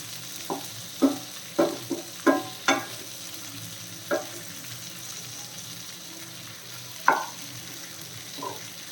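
Chicken with onions frying in a pan, a low sizzle punctuated by several sharp clattering bursts as the pieces are flipped and stirred, close up and without speech.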